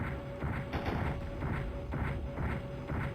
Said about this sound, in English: Some cool explosion effects too as well with that.